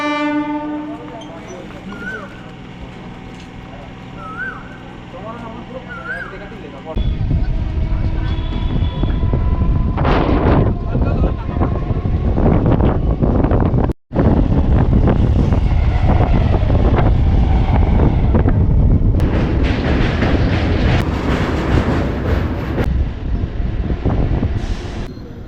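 A local train at Deulti railway station on the Howrah to Digha line sounds short horn tones, then roars past loudly with heavy wheel rumble, clatter and wind buffeting the microphone.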